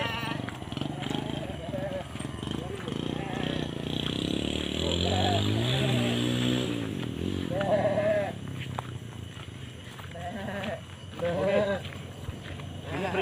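Goats bleat repeatedly, wavering and near, while people talk over them in a busy outdoor spot with traffic and motorcycle noise in the background.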